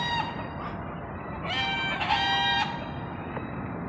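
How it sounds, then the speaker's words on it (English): Chickens and roosters perched in a tree outdoors, with clucking and a rooster crowing loudly in the middle over a steady rushing background, close and clear, with no talk. "Chickens, duck, look at them."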